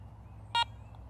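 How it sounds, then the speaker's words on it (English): A Garrett Ace 400i metal detector gives a single short electronic beep on power-up, a clean tonal chirp lasting a fraction of a second against a quiet background. "To power on the detector, simply press the power button."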